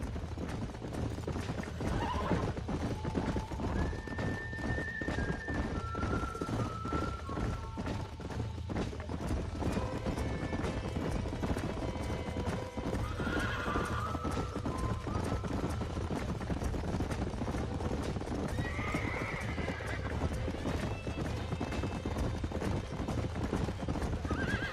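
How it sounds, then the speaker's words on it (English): Rapid hoofbeats clatter steadily as horses gallop in the video game Red Dead Redemption, with several whinnies and neighs rising above the pounding throughout. "These are fine horses."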